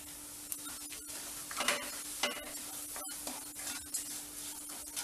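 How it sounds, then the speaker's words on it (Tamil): Semolina and cashews being stirred while roasting in ghee for rava fruit kesari, a steady close sizzle with irregular scraping strokes of the spoon against the pan and a faint constant hum underneath. "நம்ம ரவையை வேற போட்டு இதோட சேர்த்து நம்ம கிண்ட போகிறோம்"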